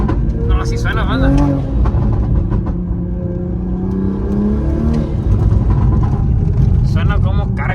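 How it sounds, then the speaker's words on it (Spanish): A Toyota Supra MK5 with a CTS intake rumbles as its turbo spools, a rising whistling whine over the engine drone, while people talk over it. "Suena como carga el turbo, como infla"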